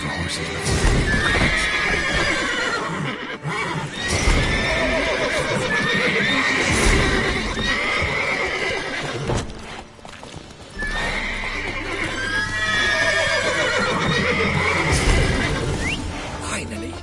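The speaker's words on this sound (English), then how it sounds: "Gotta calm all the horses before the" Horses repeatedly neighing and whinnying over a steady clatter of hooves in The Witcher 3: Wild Hunt, loud and close, with a voice speaking at times.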